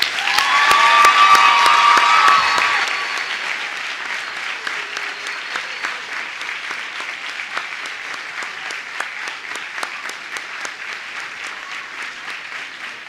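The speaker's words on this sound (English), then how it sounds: "His Excellency, President Thabo Mbeki, with a resounding round of applause." A large standing audience applauds at a keynote address by President Thabo Mbeki during UWC Africa Week 2023, with a loud burst and some cheering that settles after a few seconds into steady, sustained clapping.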